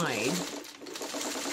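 A sewing machine stitching pieces of a traditional quilt block whirs quietly beneath a person speaking close by.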